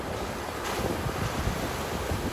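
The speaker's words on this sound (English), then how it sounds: "We've got a nice nor'wester blowing from behind me." A nor'wester blows across a surf beach in a steady, roaring rush of wind buffeting the microphone, with waves breaking underneath.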